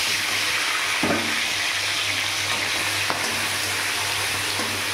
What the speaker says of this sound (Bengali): আমি এবারে চিংড়ি মাছটাকে ভেজে নেব।